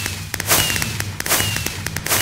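Fireworks for New Year's crack and pop in a rapid, irregular string of sharp bangs, some close and loud, others fainter, over a low rumble of outdoor background.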